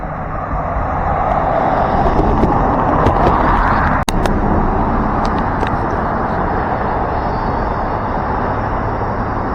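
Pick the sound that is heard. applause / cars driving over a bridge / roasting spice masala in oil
cars driving over a bridge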